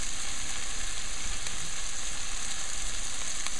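Saltfish and tomato fry in oil with chopped seasoning, chili and jalapeno, giving a loud, steady, close sizzle that holds without a break and has faint stirring clicks inside it.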